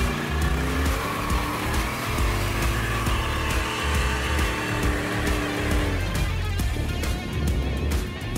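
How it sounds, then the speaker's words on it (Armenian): A Jeep Wrangler off-road racer drives hard along a dirt track at a B-class race in Vardashen, its loud engine droning steadily with revs rising and falling throughout, close by with no talk. "Ոգևորությամբ է վարում իր վրանգլերը, որ քիչ է մնում լքի մրցուղին"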